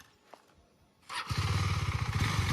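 A motorcycle riding off on clutch only, without throttle, against a Kawasaki Ninja H2R: after quiet, a close engine comes in suddenly with a loud, steady, pulsing rumble.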